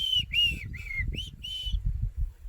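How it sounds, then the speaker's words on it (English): A black-crowned tchagra calls from the bush, five clear whistled notes with slight down-slurs in a steady series, prominent over a low background rumble. "that belongs to a bird called a black-crowned chagra"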